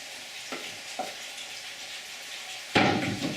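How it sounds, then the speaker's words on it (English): Chopped tomato hits a hot pan with a sudden loud burst of sizzling near the end, after a couple of soft clinks and a quiet background hiss. "Pour the tomato inside the pan."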